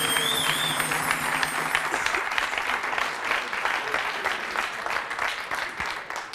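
Studio audience on a French television talk show set applauding steadily, a dense wash of many hands clapping that holds at an even level throughout.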